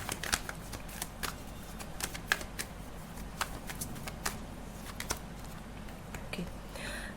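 Tarot cards being shuffled close up, a dense run of crisp riffling flicks and soft slaps repeating steadily for several seconds with no talking.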